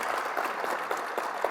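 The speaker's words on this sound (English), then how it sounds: "I'd like to start this night off by giving them a round of applause for a great year." An audience at a high school football awards ceremony applauds the team, a steady wash of many hands clapping at moderate distance, with no voices over it.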